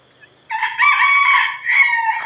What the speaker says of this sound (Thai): ไก่แจ้ขันเสียงแหลมเจี๊ยบเจี๊ยบ